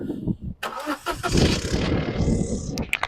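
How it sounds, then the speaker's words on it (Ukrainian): A budget used car's engine is cranked and fires, catching after a short crank and settling into a loud, rough, close idle, with a brief voice at the very start. "Давид, заводь!"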